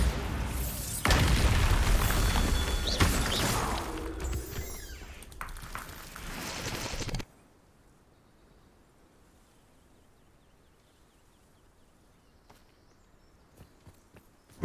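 A Bombarda blasting-spell explosion in Hogwarts Legacy erupts as a loud, sustained roaring burst for several seconds, then cuts off abruptly into near silence with faint scattered clicks.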